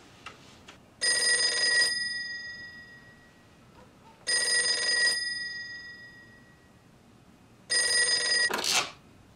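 Telephone ringing in three loud, bright bursts about three seconds apart, each ring sustained for under a second with decaying tone, quiet room between rings and a clatter at the end as it is answered.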